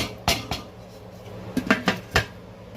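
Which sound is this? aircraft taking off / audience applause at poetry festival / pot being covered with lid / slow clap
pot being covered with lid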